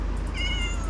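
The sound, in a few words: cat meowing in Minecraft video game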